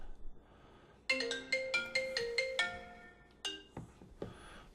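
A phone ringtone plays a bright melodic chime pattern of repeated tonal notes for a few seconds, moderately loud indoors over faint background hum.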